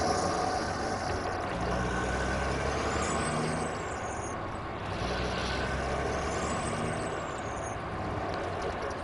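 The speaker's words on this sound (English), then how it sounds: "This truck even sounds like the International." A truck engine in the SnowRunner video game, resembling an International, rumbles steadily and loudly throughout, with a pair of rising and falling whines and hissing bursts like air brake releases.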